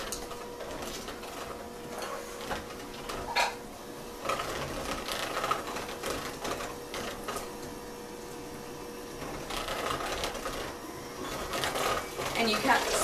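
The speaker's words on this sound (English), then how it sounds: "Now, you mix it on low for about a minute." An electric mixer runs on low speed through cake batter, a steady close mechanical whir with faint rattles throughout.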